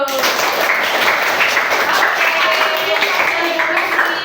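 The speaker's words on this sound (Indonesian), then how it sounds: "Oke, tepuk tangan dulu." A school class claps together in a sustained burst of applause, dense and fairly loud, with a voice briefly speaking at the start.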